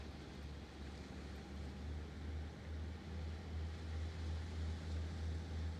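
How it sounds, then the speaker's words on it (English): A law enforcement boat's engine rumbles low and steady on the Westerschelde in the Netherlands, a faint, distant drone with gentle surges under soft water and wind noise. "You hear their engine revving"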